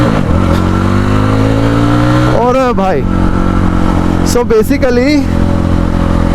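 A 2025 Yezdi Roadster's 334 cc single-cylinder liquid-cooled engine idles with a steady throb, then blips through two sharp revs, heard close up under someone talking.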